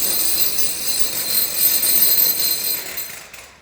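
A power tool chases a groove into monolithic concrete to take screws, giving a loud, steady, close-up hiss with a high-pitched whine that holds for over three seconds before tailing off at the end.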